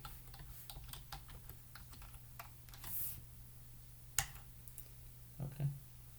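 A git username and password being entered on a computer keyboard: quiet, irregular keystrokes tapped one after another at a moderate pace with a low background hum, no talking.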